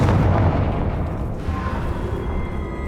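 A Confringo fire blast spell from Hogwarts Legacy bursts loudly at the start, a booming explosive roar that decays into a rumbling, crackling tail over game ambience, with no talking.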